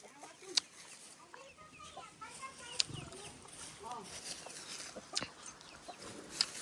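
A farmyard chicken being kept for the Dashain festival in rural Nepal clucks softly in short, scattered bursts, fairly faint and close, with a few sharp clicks and murmured background voices.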